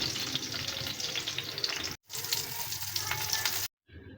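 Slices of pointed gourd frying in a pan give a steady, close sizzle with faint stirring scrapes, broken by two short gaps of silence.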